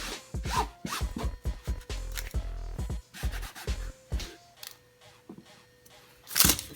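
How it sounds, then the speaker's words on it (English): A towel rubs dirt off an onion in a kitchen, with short scratchy swipes and rustles up close, a few clunks between them and a loud brush of noise at the end. "if the onion has a bit of dirt on it, just grab a towel and clean off any of the dirt"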